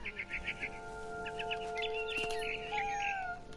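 In the video game What Remains of Edith Finch, a cat meows in short, repeated cries while a bird chirps in quick bursts, with a sharp thump midway through.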